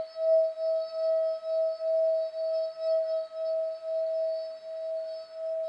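A sustained ringing glass tone hums steadily, pulsing in gentle swells as a wet rim is rubbed, with bright overtones and no other sound.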